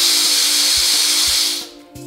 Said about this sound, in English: release all the steam pressure until it's fully drained